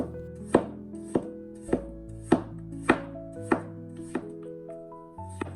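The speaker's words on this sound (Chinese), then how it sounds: "准备一小段去皮的胡萝卜切成薄片" A knife slicing a peeled carrot into thin pieces on a board, nine or ten crisp, evenly spaced chops, close and clear with no talk.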